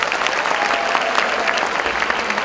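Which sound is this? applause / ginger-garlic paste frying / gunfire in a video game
applause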